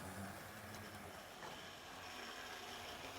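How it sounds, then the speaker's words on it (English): A BR Blue Class 31 model locomotive with triangle markings, very old and noisy, runs with a passenger train, giving a steady whirring rumble throughout with no talk. "You want to see the BR Blue Triangle Class 31 with a passenger train"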